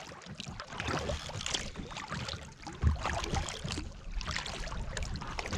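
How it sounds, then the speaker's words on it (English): Wind-driven water from a westerly breeze slaps steadily against the hull of a small boat, a continuous choppy splashing and lapping close to the microphone with gusty wind noise layered over it. "Can you hear it slapping the bottom of the boat?"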